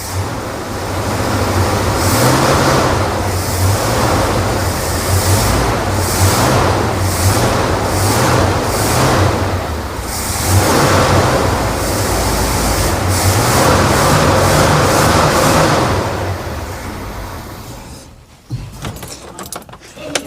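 A 1966 Ford Galaxie 500 V8 idles loudly and steadily with a rough, even rumble for about eighteen seconds, then abruptly cuts out, leaving scattered clunks and rustles.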